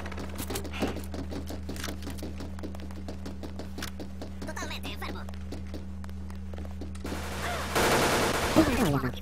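Uzi and AK rifle fire in a multiplayer shooter on the Offshore map rattles in rapid bursts across most of the stretch, with a louder blast near the end and players talking over it.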